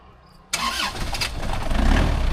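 An Isuzu D-Max pickup truck, left parked a long time, cranks and catches abruptly after a quiet moment, then settles into a loud, rumbling idle close by.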